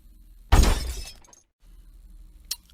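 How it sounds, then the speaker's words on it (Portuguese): A glass shatters in one sharp, loud crash with a tinkling decay, followed after a short silence by a small final clink, as a stage sound effect. "um copo quebrando"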